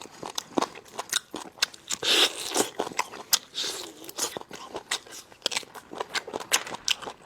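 Crunchy beef cartilage chewed close to the mic during a mukbang, a rapid irregular series of sharp cracking crunches and wet bites, with no talking.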